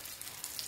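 Lumpia egg rolls frying in hot oil, a steady close crackling sizzle that holds at an even level through a short moment, with no voices.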